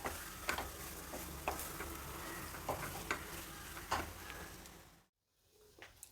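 Cooked rice being mixed with mango gojju for chitranna on a plate, with soft repeated scraping and tapping strokes at a steady rhythm, fairly quiet, then a brief silence before a few faint taps.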